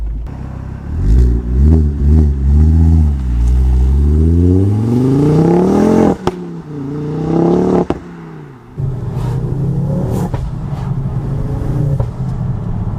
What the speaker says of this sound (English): Let's get out on the road, enjoy some of that 5-cylinder warble.